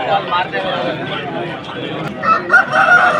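A white, roughly four-kilogram rooster at the Vijayawada rooster market crows amid loud market bustle and nearby talking, the strained call rising most clearly near the end.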